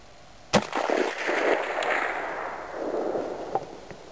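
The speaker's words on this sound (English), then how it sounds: "Winchester 94 30-30, Hornady 110 grain full metal jacket" A single Winchester 94 lever-action rifle in .30-30 fires a Hornady 110 grain full metal jacket round at steel 300 yards out; one sharp loud crack opens into a long rolling outdoor echo, with a faint distant tick near the end.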